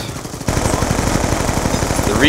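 Rapid automatic gunfire from Black Ops 2 rattles in a fast, steady stream of loud shots, sustained throughout the short burst with a player's voice faintly mixed in.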